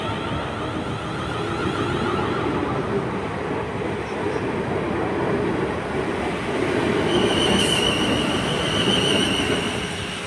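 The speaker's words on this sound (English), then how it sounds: "departing out 450-108 on the 12:12 to Lymington Pier" A Class 450 electric train, unit 450-108, pulls out of Brockenhurst station on a Lymington Pier service, with a steady close rumble of wheels and motors rising slightly and a brief squeal near the end.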